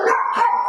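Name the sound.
chihuahua dog barking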